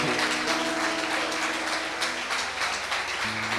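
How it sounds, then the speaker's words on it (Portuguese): A church congregation applauds with steady, dense clapping that fills the room, over sustained keyboard chords that change partway through. "Vamos aplaudir o Senhor."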